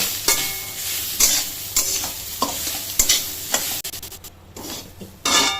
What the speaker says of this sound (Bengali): নারিকেলটাকে একটু ভেজে নেব